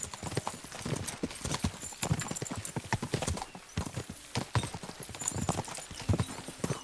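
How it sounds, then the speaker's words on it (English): Rapid rhythmic hoofbeats of horses galloping in the video game Kingdom Come: Deliverance II, a steady clattering pulse close by, with faint background noise and no talk. "We should spur the horses on."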